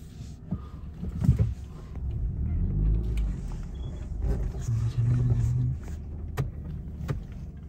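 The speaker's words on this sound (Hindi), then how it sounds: "गाड़ी वहाँ थोड़ी आगे ले लो।" A car rumbles with a low engine drone as it eases forward at night in a jungle setting, the motor steady and close, with people talking quietly over it.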